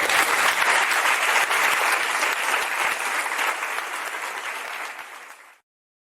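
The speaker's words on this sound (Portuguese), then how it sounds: "Você pode aplaudir o nome do Senhor?" A church congregation applauds at a Missionary Filadélfia church musical, with a loud, dense and steady wash of clapping that fades slightly before cutting off.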